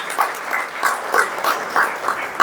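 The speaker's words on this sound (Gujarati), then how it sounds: "એકવાર જોરદાર તાળી એમના માટે થઈ જાય." Audience applause for an honoured guest at a Gujarati public gathering, heard as a fairly loud, steady patter of many hands with a slightly rhythmic pulse throughout.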